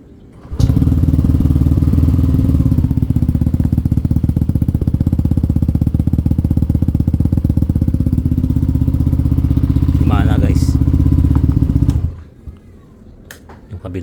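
A motorcycle engine starts with a quick catch, then idles and runs steadily at a constant rumble, close and loud. It cuts off abruptly near the end.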